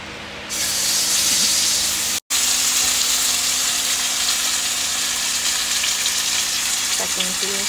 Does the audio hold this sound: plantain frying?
yes